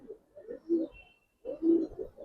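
Giribaz pigeons in a loft cage give low, throaty cooing calls in two short bursts separated by a pause, close by and fairly soft with no other sounds.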